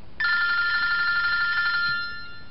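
A telephone bell rings in one sustained electronic trill for almost two seconds and then fades over a faint background hiss.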